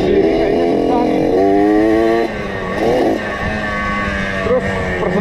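A modified Suzuki Satria two-stroke trail motorcycle runs loud and close on a test ride, its buzzing engine revving up and down in steady surges with no pauses.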